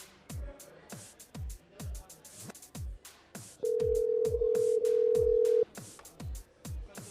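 A telephone rings repeatedly during a live radio call-in broadcast from a brasserie, the steady ring bursts returning again and again in an even rhythm, with a sustained steady tone partway through and no talk over it.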